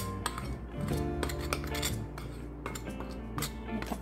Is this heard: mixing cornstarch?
yes